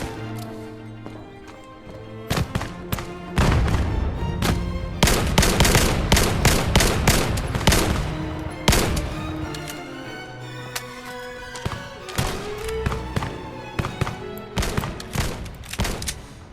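Rapid gunfire from the VR shooter Vail on Meta Quest 2, with loud bursts of pistol shots and sharp rattling volleys in irregular clusters, punctuated by thumps, and no talking over it.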